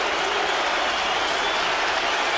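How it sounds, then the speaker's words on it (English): A Yankees–Red Sox baseball stadium crowd in 2009 extra innings cheering and applauding, a loud, dense, unbroken roar of clapping and crowd noise. "And the crowd getting into this moment."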